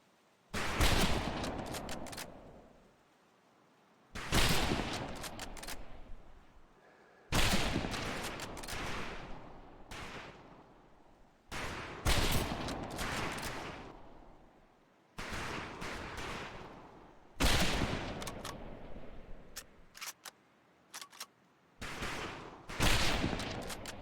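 Repeated rifle volleys on a Medal of Honor Pacific Assault firing range, loud cracking bursts of several shots each that ring out and decay, separated by short pauses, about six volleys in all.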